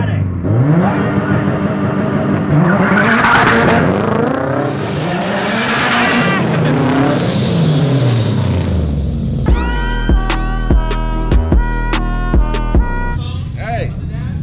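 A turbocharged Subaru time-attack car revs and launches loudly on a two-step launch control, then sharp rapid popping bangs crackle in bursts, with voices shouting over the engine.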